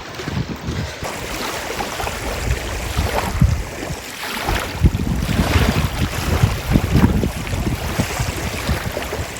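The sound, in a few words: wind blowing at a lakeside campsite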